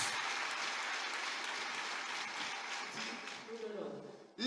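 A church congregation claps and cheers for Jesus, a dense, steady wash of applause that fades toward the end as a voice starts speaking.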